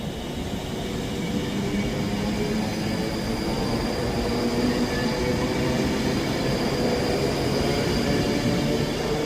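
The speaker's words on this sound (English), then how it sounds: "departing out now is the 1015 Avanti West Coast service from London Euston to Edinburgh Waverley" An Avanti West Coast train rolls out of Edinburgh Haymarket station, a steady, continuous rumble of wheels and engine that stays loud and close throughout, with no voices.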